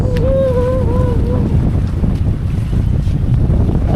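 Strong wind at sea roars and buffets the microphone continuously, with a brief whistling tone near the start.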